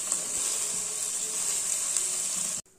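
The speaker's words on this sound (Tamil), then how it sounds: "தக்காளி வதங்கின உடனே நறுக்கின பீன்ஸை சேர்த்துக்கோங்க." Chopped beans added to a hot pan with softened tomato for semolina kichadi give a steady, bright sizzle that holds evenly for a few seconds and then cuts off abruptly.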